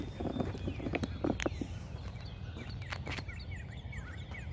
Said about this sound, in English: Makes me feel like spring when you start hearing all the birds again.